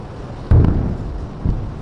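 Explosions from missiles or interceptions over Tel Aviv, heard as a sudden heavy boom followed by a rumbling tail and a second, softer thud, set against constant low outdoor noise.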